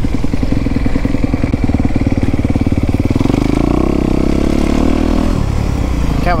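A Kawasaki dirt bike rides on a track, close and loud, its engine pulsing hard and its pitch climbing as it revs, with a clattering edge before easing off near the end.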